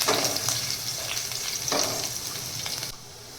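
Cumin seeds, garlic and green chilli sizzle steadily in hot oil, a close, continuous crackle with occasional louder pops and stirring, easing off near the end.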